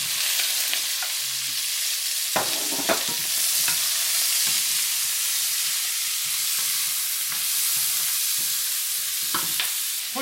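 Ginger, garlic and onion brown in a pan for a steak and potato stir fry, giving a constant loud sizzle broken by occasional sharp clicks of stirring.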